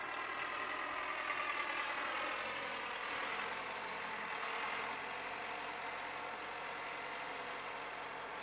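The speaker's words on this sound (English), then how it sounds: "like the backhoe's going" A backhoe engine runs steadily while clearing a driveway, giving a constant, close droning idle with no change in pace and no talk over it.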